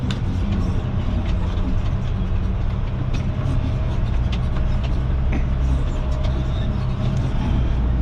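A truck in first gear with its differentials locked, pulling a long trailer through soft, deeply rutted ground in a dirt pit, a steady low engine rumble with rattling, close and continuous throughout.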